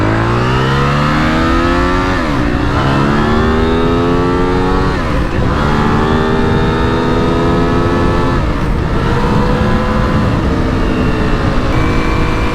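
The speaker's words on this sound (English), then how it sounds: "Just gonna rip it up and down the road here." Aprilia RXV450 motorcycle on knobby tires, ridden hard along a road: a loud close engine revving up through the gears in repeated rising pulls, with brief dips between shifts, continuous throughout.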